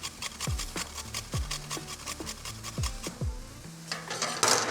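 A sesame chicken sauce mixture is stirred in a bowl, giving a close, steady run of rhythmic scraping and rubbing strokes against the sides, with a louder burst of scraping near the end.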